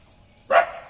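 A single sharp dog bark rings out after a quiet moment, fairly close and brief.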